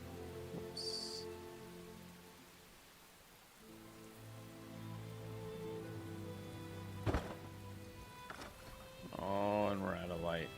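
Steady rain patters across the landscape in the survival building game Enshrouded, a soft continuous hiss with scattered drops and a distant rumble, while someone talks over it.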